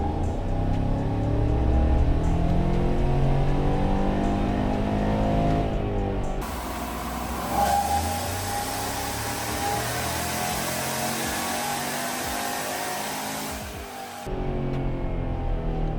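Truck fitted with an L83 V8 and Stage 2 cam pulling on a chassis dyno, the engine revving steadily upward in a loud, close, sustained run before the throttle closes and it drops back.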